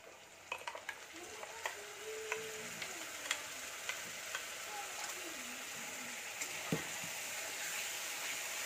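Ground sesame spice paste with salt fries in a wok, a faint low sizzle under a string of sharp spatula taps and scrapes, quiet and close.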